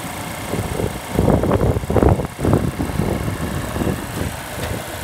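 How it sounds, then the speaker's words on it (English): A 2015 Mazda 6 i Touring engine idles steadily nearby, its low rumble swelling briefly louder in the middle, with a faint fan-like hiss and some wind noise. "let's get back to the engine here."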